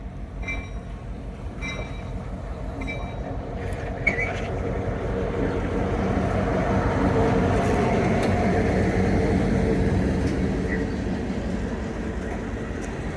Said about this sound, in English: That train's going pretty slow.